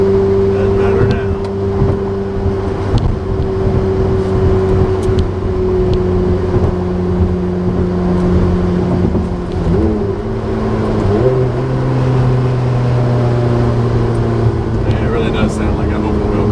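A Ferrari F430 engine hums steadily from inside the cabin at a loud, even drone, shifting pitch once partway through, with road and wind noise and someone talking over it.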